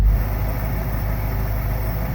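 A 1968 Ford Mustang that sat for 30 years idles steadily just after its first start, a continuous low engine rumble close by with no talking.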